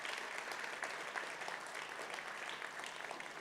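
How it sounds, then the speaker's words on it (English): Distant, faint applause from an audience at the Earth Care Awards ceremony, a steady crowd of hands clapping evenly for a few seconds. "give a big thunderous round of applause to kickstart this well-deserved felicitation"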